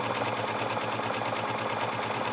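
A sewing machine stitching a buttonhole runs in a fast, even rhythmic chatter, close and steady throughout.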